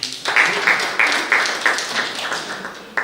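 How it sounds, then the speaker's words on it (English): Audience applause at a course launch event, heard as a series of distinct, fairly close, rhythmic claps roughly every third of a second, with faint voices underneath. "Can we give another round of applause,"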